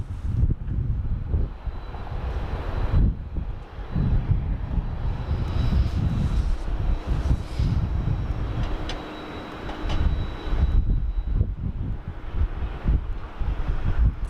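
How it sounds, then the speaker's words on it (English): A Qantas airliner lands at Sydney Airport with a continuous, loud jet engine roar and rumble, mixed with wind buffeting the microphone throughout. "Qantas just touched down."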